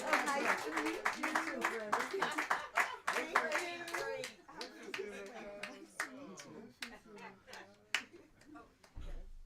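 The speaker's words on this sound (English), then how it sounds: "another round of applause for Miss Dante." An audience gives a round of applause after an author's presentation: a steady patter of many hands clapping at close range, with people talking over it throughout.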